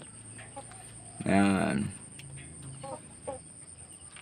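Rhode Island chickens in a farm pen give a loud burst of clucking and squawking near the mic, then scattered softer clucks, with someone speaking briefly over them.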